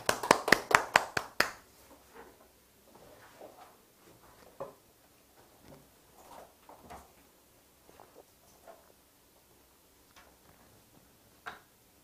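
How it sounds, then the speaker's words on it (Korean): A short burst of hand clapping closes a class lesson: about seven quick, evenly spaced claps, then quiet with faint scattered knocks and rustles. "박수 치면서 마무리하겠습니다"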